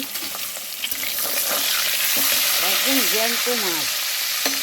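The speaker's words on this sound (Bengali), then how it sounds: "আর এই মাছ ভাজা বসিয়েছি" Fish frying in a pan alongside crab being fried with green chillies, a steady close sizzle throughout with someone talking over it.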